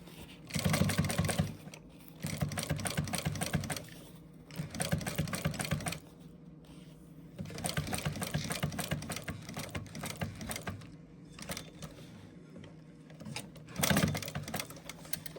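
Sewing machine stitching fabric in repeated bursts of rapid mechanical chatter separated by short pauses, close and fairly quiet, with no speech.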